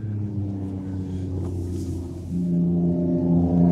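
Supercharged 600-horsepower Ford GT Falcon on a track-day circuit at Collie Motorplex, its engine droning steadily with a harmonic-rich note that rises in pitch and loudness partway through as it revs.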